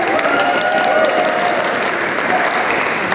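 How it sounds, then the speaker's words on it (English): Audience applause for local artist Veronica Westmoreland at a Halloween-themed event, a steady dense wash of clapping from a crowd that holds at full strength throughout. "let's give her a quick round of applause"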